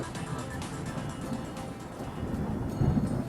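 Stormy weather with a steady rush of heavy rain and low rumbling thunder, a deeper roll building toward the end.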